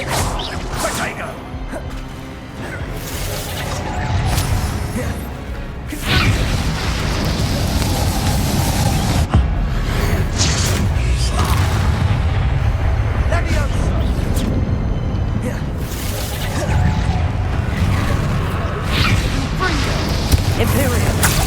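Spell blasts from Hogwarts Legacy boom and crash over and over: loud bursts, whooshes and impacts follow each other in dense combat. Spoken spell names are heard between the hits.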